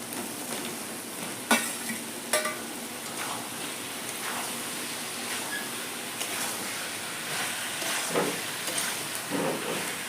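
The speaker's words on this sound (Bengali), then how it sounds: "তেল ছেড়ে গেছে এখন আমি দিয়ে দেবো এঁচড় আর কাঁঠাল ভেজে রাখা" Raw green jackfruit pieces fry in hot oil while a spatula turns them, producing a dense, even sizzle that sounds like rain, broken by a couple of sharp scrapes and knocks against the pan, with no talking.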